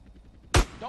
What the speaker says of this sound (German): Irgendwas schießt da, bei Gott!